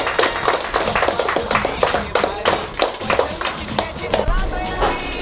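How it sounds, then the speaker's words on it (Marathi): Audience applause at a Home Minister game-show prize ceremony, a run of brisk, close claps in an uneven rhythm lasting several seconds. "टाळ्यांचा आवाज होत्या"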